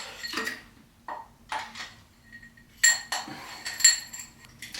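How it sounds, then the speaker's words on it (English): Mountain bike bearings and spacers dropped into a beer glass during a Yeti SB160 build, several sharp, close metallic clinks and rattles separated by short quiet gaps. "Sometimes you lose a bearing in your beer glass."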